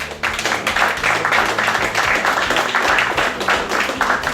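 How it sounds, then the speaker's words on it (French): An audience at a restaurant awards ceremony applauds with steady, dense clapping from many hands, loud and continuous throughout with no talk over it. "on peut l'applaudir aussi."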